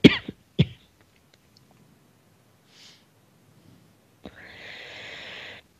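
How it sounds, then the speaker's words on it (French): Two sharp coughs right at the start, close and loud, followed by quiet, then a brief rustle and a sustained hiss near the end. "tousser"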